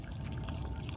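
Water poured from a container onto a houseplant in a pot, a steady close splashing trickle running through the whole moment with no talk.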